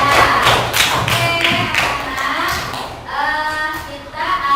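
A class of schoolchildren claps together in a primary school classroom, a burst of rhythmic, fairly close hand claps repeating in quick beats for several seconds.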